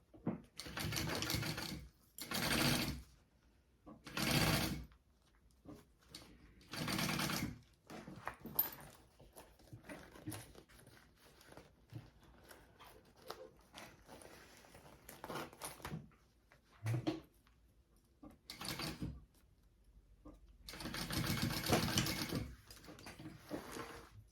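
A sewing machine bastes the lining of a phone sling bag in repeated short whirring bursts, each a few seconds long with pauses between them. Quiet handling of fabric fills the gaps.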